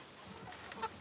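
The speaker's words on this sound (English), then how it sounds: "And here's the ducks and chickens." Ducks and chickens in a farm pen at night, with soft, faint clucking murmurs over a quiet background and one brief louder call near the end.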